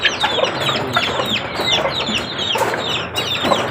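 Chicks and young chickens cluck and peep steadily while feeding, a dense overlapping chorus of close, busy calls with no voices.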